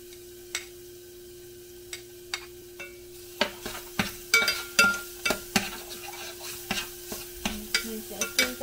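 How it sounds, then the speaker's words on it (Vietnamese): Cooking oil sizzles in a pan while aromatics fry, with a steady hiss broken by repeated sharp pops and crackles that grow denser and louder toward the end, recorded close with no talk. "Mình sẽ chiên cho thơm lên."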